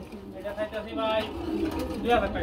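A breeding pair of pigeons coos softly and continuously at a Bengali pigeon market, low burbling calls close by with people talking over them.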